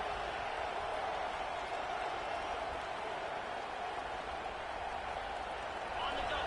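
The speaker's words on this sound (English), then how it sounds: "This crowd, full throat, spreading the eardrums and letting him know it's going to be a long day." A football stadium crowd at Alabama versus Florida State roars steadily after an interception, a dense, constant wash of cheering with a commentator talking over it.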